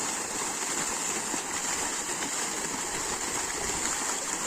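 Irrigation water from a motor pump gushes in a field, steady and continuous, spraying like a fountain, a dense broadband flow with no voices.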